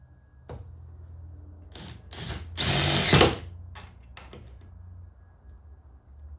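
A power drill drives screws for table-dolly casters into pine, with short whirring bursts and one longer, louder run in the middle, separated by quiet pauses and light handling clicks.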